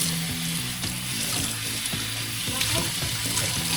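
Tap water runs steadily into a sink while crochet hair is washed, a constant close hiss with faint splashing and handling, and a low tonal hum underneath.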